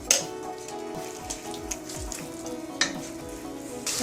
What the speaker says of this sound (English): and start cooking the tomatoes